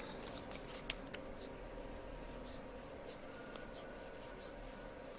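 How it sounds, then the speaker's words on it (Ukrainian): Scissors trimming the edges of foamiran leaves, a quiet, close series of crisp snips and rustles over faint background noise. "ще раз ось так згинаю, обрізаю"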